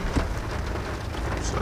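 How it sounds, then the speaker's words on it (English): Heavy rain pours in a dense, steady roar on a car, heard from inside, loud and continuous without pauses. "We had to jump in the car because it is pouring down rain"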